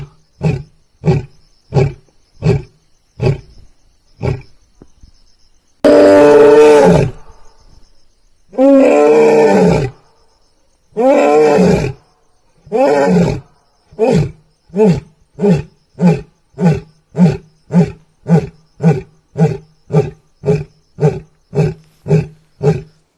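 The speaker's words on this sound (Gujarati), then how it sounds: "સીમ વિસ્તારમાં સિંહ હોવાનો વિડીયો વાયરલ થયો છે." A lion roaring in farm fields: a close, loud series of deep rhythmic grunting roars, with several long drawn-out bellows in the middle and evenly spaced grunts before and after, no voices.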